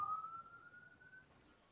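A single video-game siren wails faintly and steadily, a thin sustained tone that holds and drifts slightly upward before cutting off partway through, leaving quiet behind.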